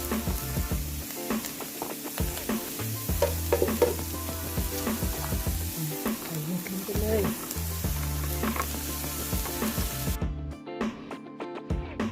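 Food sizzles and fries steadily in a pan while being stirred, with a continuous loud hiss and occasional scraping, before pork is stir-fried.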